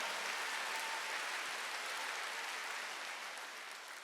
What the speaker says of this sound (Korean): 빨리 박수를 하세요